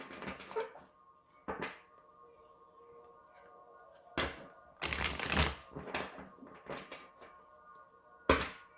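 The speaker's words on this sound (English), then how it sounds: "I'm going to give a few shuffles." Bursts of tarot card shuffling, riffles and soft flicks, come in several separate rounds over a faint steady hum in a quiet room.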